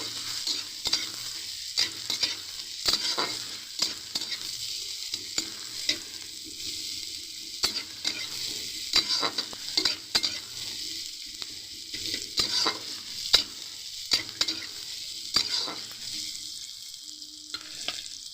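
Chopped onions fry in hot oil in a pan while a spatula stirs them, giving a constant bright sizzle broken by frequent scraping and tapping strokes against the metal.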